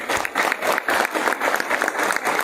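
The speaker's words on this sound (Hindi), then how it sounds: "तालियां बजती रहनी चाहिए, रुकनी नहीं चाहिए।" An enthusiastic stage-event audience applauds, giving a brief, loud, rapid burst of clapping from many hands.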